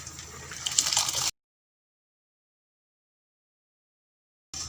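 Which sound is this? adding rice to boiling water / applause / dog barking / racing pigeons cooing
adding rice to boiling water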